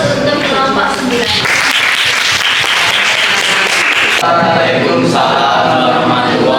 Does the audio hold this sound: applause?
yes